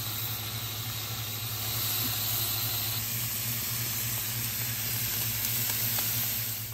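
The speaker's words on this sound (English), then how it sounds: "now that our bacon's going down" Bacon sizzles on a Blackstone flat top griddle, a constant dense hiss of fat frying at steady volume over a low background hum, with nothing else intruding.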